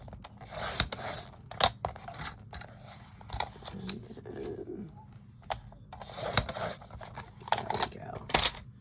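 Scissors snipping through a paper card for a handmade graduation card, a series of short crisp cuts in irregular bursts, close and fairly quiet, with soft paper rubbing and handling between them.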